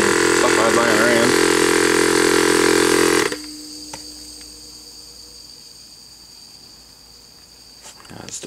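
An old 12V air compressor, tested after a cylinder leak fix, runs with a loud, steady motorized whine for about three seconds, then cuts off, leaving a faint hiss and quiet background.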